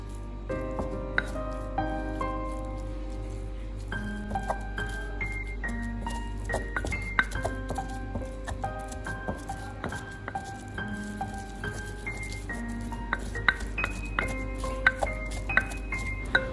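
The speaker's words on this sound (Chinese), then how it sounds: "将豆豉捣碎，这样吃起来就不会那么硬" Fermented black beans being mashed with a little cooking oil, giving soft irregular knocks and squishy pounding strokes over a low hum with background music.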